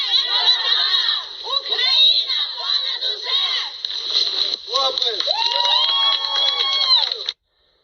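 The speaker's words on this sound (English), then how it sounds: "the huge crowd marched towards City Hall" Huge crowd marching through downtown streets toward City Hall at a Ukrainian rally, dense overlapping shouts and chanting voices with children's cries, loud and continuous throughout before cutting off abruptly.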